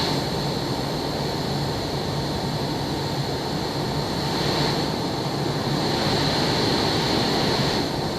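A MiG-29 Fulcrum jet on a test flight gives a steady, loud, broadband roar with a high whine, constant throughout with no talk.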